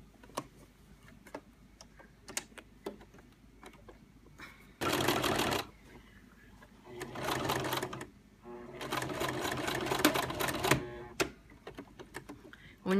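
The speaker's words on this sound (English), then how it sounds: "When you're sewing through something thick like this, you need to have your larger needle in" Sewing machine stitching slowly through thick fabric while making a storage case, with a few separate bursts of close mechanical whirring broken by soft ticks and handling clicks between runs.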